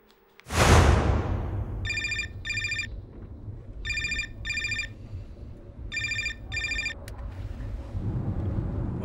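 A telephone rings in paired electronic bursts over a low, steady rumble while a call is being placed, starting right after a loud whoosh.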